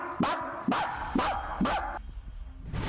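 A human voice imitates a dog barking, four rhythmic woofs in quick succession, loud and close, followed by a quieter tail of room noise.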